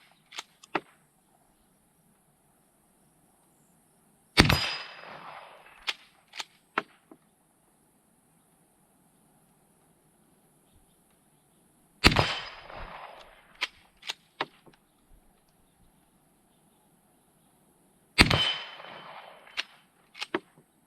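Colt Lightning deluxe medium-frame revolver firing 44/40 rounds at an outdoor range, three sharp, loud shots spaced several seconds apart, each followed by a ringing tail and faint scattered clinks.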